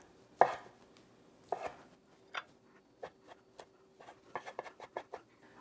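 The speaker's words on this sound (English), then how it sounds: "First, I'm going to dice the chicken." A knife thuds against a cutting board in scattered chops while dicing raw chicken, then a quicker run of light, rhythmic cuts, close and fairly quiet.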